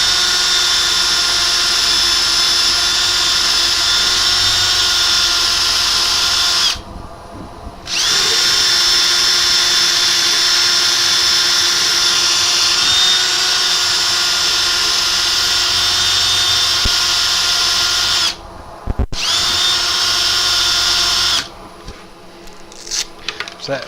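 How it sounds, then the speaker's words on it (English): A power drill fitted with a sanding disc whines loudly and steadily, grinding against soft wood, with two brief pauses where it stops before starting again. "I'm going to use a drill because of saving time."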